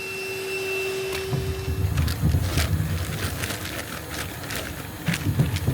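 A vacuum cleaner sucks excess air out of a bag during the build of a Fusion 2.6m tender, a steady rushing drone with crackling and rustling as the bag is drawn down.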